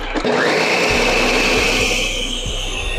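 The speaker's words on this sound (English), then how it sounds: "And then I'll cover your blender and blend." A blender blending spices, including onion powder, whirs steadily at high speed, a loud continuous motor drone with a grinding texture that holds through the whole stretch.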